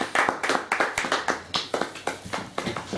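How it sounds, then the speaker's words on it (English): A small church congregation claps in rhythm as a praise offering, a dozen or so sharp, evenly spaced claps in a brisk, regular beat, close and fairly loud with no talking over them. "Let's give a clap offering unto the Lord."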